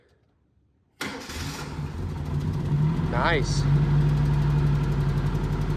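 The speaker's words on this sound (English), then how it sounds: "It's got a little high idle because of that, I guess that richer fuel mixture, but it's at least idling better." Turbocharged Mercury Capri engine, abandoned for 23 years, cranks briefly and catches, then settles into a steady, slightly high idle that stays loud and close, with a short spoken remark partway through.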